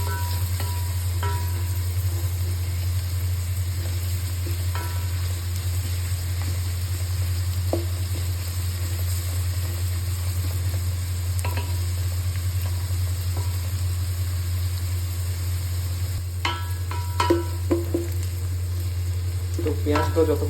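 Onions are stirred and fried on high flame for chicken biryani, a steady sizzle under a strong constant low hum, with occasional scraping spatula knocks clustered toward the end.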